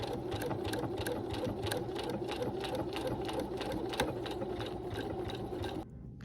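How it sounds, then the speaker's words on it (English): A sewing machine stitches a decorative pattern onto a crossbody bag, a steady rapid mechanical whir and needle chatter running loud and close throughout before cutting off near the end. "The machine will move it where it needs to make the decorative stitch."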